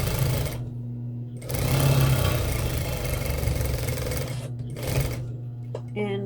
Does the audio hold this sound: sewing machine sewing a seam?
yes